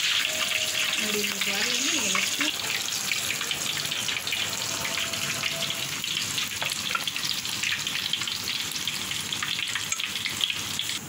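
Oil sizzles and crackles continuously in a pan as prawn fritters fry, a dense steady frying hiss, with a brief murmur of voice early on.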